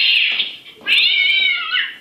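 A Halloween motion-sensor decoration gives out a loud electronic cat meow, two drawn-out yowls in close succession, heard up close with no one talking over it.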